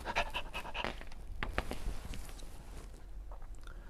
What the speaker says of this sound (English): her friendly dogs ask for a pat